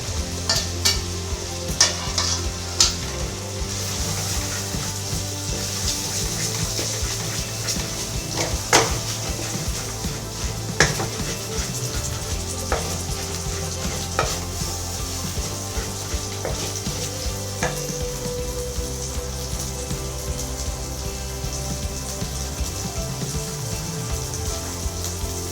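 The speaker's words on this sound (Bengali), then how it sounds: "এখানে আমি দিয়ে দেব 1 চামচ আদা আর কাঁচা লঙ্কা বাটা।" Ginger and green chilli paste frying in a pan while being stirred, a steady close sizzle broken by scraping strokes and occasional clinks of the utensil against the pan, with no talk.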